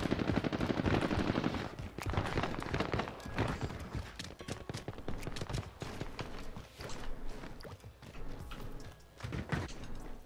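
Enemy gunfire in Call of Duty Warzone crackles in quick, uneven bursts of automatic shots, loud at first and then thinning into scattered, fainter volleys with some footstep-like clatter between them.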